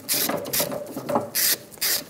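A tool tightens the bolt on a fuel tank strap of a 2000-2007 Ford Focus, heard as loud, close, rhythmic mechanical bursts in quick succession with no talk.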